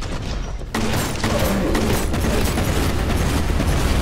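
Grenade explosions in the game Warhammer 40k Boltgun, a sudden loud blast followed by a dense, continuous rumble of booms and debris up close.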